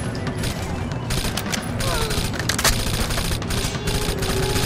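Rapid automatic gunfire rattles in Rainbow Six: Vegas, a dense continuous fusillade with sharp cracks mixed in, while voices call out over the shooting.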